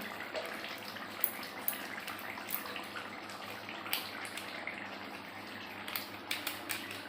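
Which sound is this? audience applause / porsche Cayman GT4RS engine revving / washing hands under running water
washing hands under running water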